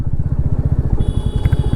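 A Royal Enfield Classic 350 motorcycle idles close by while being parked at a roadside dhaba, its single-cylinder engine thumping in a fast, even, loud pulse with some light clatter over it.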